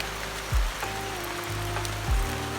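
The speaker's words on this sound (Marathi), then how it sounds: "पुन्हा पावसाला सुरुवात झाली आहे" Steady rain hisses across the whole stretch, with a low droning hum underneath and a few soft dull thumps.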